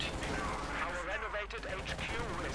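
Battle gunfire in Company of Heroes 2, German panzers and Sturmgewehr assault rifles cutting down advancing American troops, a dense continuous din of shots and explosions with a commentator talking over it.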